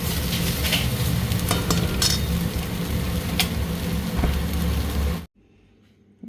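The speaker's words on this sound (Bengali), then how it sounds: "লবণ আর অল্প একটু হলুদও দিয়ে দিলাম। শাকটা ভালো মতো ভাজা হয়ে গেছে।" Kharkol leaves frying in a pan with salt and turmeric, a loud steady sizzle with stirring scrapes and clinks, running about five seconds before cutting off abruptly to near silence.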